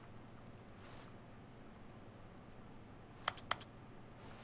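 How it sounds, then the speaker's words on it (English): Two quick, sharp clicks from an interactive object in The Stanley Parable, a brief close pair near the end over a low steady background hum, with nothing else happening. "It's making the clicking noises when I click on it."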